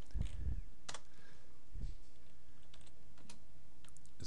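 Keys clatter on a computer keyboard at a Windows command prompt, a few quick soft clicks with pauses over a low room hiss.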